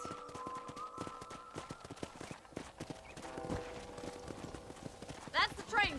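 Horses' hooves clip-clop at a steady walking pace in the Western video game Red Dead Redemption, under ongoing character dialogue, with a brief snort or whinny near the end.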